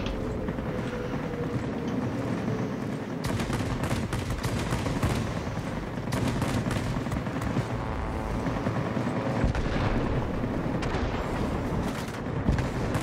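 Guns on a J7W2 aircraft in World of Warplanes fire rapidly in a dense, continuous stream, loud and unbroken over a steady engine roar, with brief shifts in intensity.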